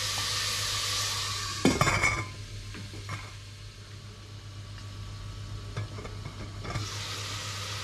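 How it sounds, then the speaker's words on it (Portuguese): Chouriço and a bay leaf sauté in a pan for Portuguese duck rice, giving a soft, steady sizzle broken by a few metallic clinks and stirring scrapes against the pan, with no talking. "Vamos deixar refogar."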